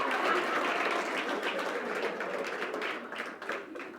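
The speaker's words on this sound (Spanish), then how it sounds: "me están aplaudiendo porque no les gusta que llore" A church congregation applauding during a Spanish-language sermon, with sustained, fairly loud clapping from a crowd that thins slightly toward the end, and no speech heard over it.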